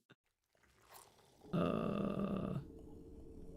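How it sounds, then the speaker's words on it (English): A colonist's farting noise in the colony-building game Songs of Syx, a short low buzzing blurt that swells and then cuts off, heard alone and fairly quiet. "Farting noises are horrible."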